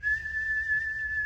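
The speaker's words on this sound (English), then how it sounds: "that's a vent whistle" A heating oil tank vent whistle sounding as oil is delivered and air is forced out, a single steady high-pitched tone held without a break, fairly loud and close with no talking.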